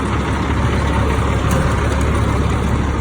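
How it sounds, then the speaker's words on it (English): A truck engine runs at a truck auction, a steady loud low idle rumble that holds unchanged for the whole stretch, close by, with no voices over it. "you can even drive the trucks around in a little early"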